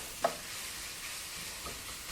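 Sausage browns in a pan for crockpot soup, giving a soft, even background sizzle with one faint clink near the start and a light stir later.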